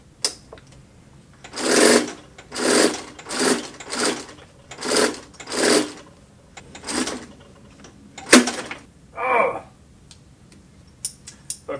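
A Singer HD sewing machine stitching a bottle carrier in short bursts, with about eight whirring runs of roughly half a second each, close and loud, separated by brief pauses and a few small clicks.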